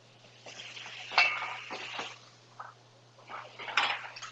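Chopped carrot and onion dropped into a Dutch oven with garlic and bay leaves, giving soft thuds and light clinks of pot and utensil in a few close, scattered bursts, no talking.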